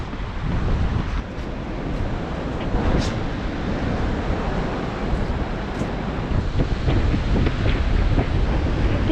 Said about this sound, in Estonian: Tuuline on natuke.